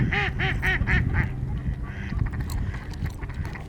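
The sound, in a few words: ducks quacking on icy lake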